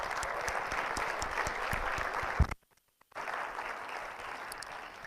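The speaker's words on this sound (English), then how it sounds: "Let's give Jenny applause." An audience claps in sustained applause that stops abruptly, then resumes after a short silence.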